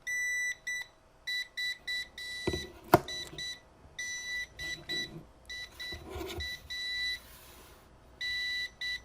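Nvidia Shield TV 2019 remote emitting repeated bursts of high electronic beeping in an on-off pattern, fairly loud and close, with a few handling knocks in between.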